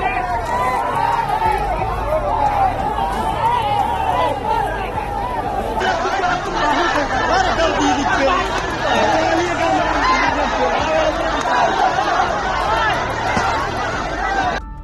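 Angry crowd of villagers at a road blockade, a dense roar of overlapping shouting and agitated chatter, loud and close, continuous throughout with no single voice standing out.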